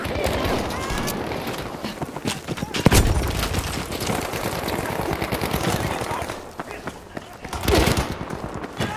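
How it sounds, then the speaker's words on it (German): A grenade goes off in Battlefield V with a single sharp, loud blast, set in the middle of steady battlefield gunfire and shouting voices. "Ich werfe eine Granate!"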